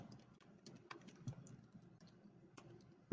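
Quiet, irregular keystrokes on a computer keyboard as a view name is typed, soft clicks scattered over about three seconds with no voices.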